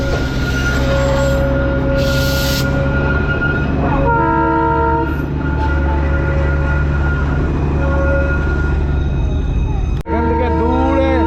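The Darjeeling toy train climbing uphill on the Gayabari jungle ride, a loud steady rumble of wagons with sustained horn-like tones sounding several times and a sharp clank near the end.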